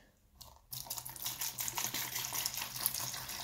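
Liquid chrome-removal solution pours out in a steady gushing splash that starts abruptly after a brief near-silence and continues with bubbling, trickling texture.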